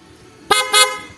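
Two short honks from an ordinary car horn with the dual horn's switch turned off, the second blast longer, loud and close with no talking.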